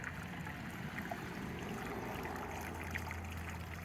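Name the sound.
lacquer thinner pouring through a funnel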